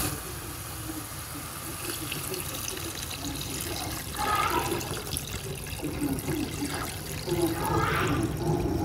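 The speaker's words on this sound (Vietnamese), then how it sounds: "đổ nước vào nha" Water poured into a pot of simmering seafood soup with white radish, a steady close splashing rush that swells louder in bursts partway through.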